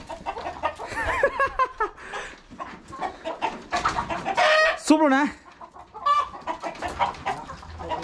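Chickens cluck and squawk close by at a rural spot beside a pond, with voices talking and calling over and between the bird sounds.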